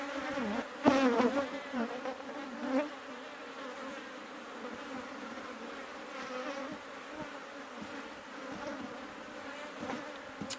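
Honeybees hum around a hive busy storing nectar and pollen, a dense, continuous buzz close by, with individual bees swooping loudly past early on before the drone settles into a steady background swarm.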